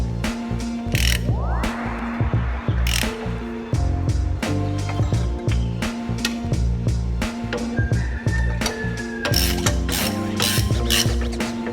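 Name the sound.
ratchet tightening bolts on BMW M10 engine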